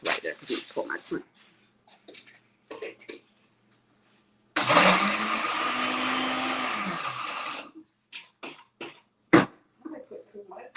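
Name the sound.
blender blending strawberry crunch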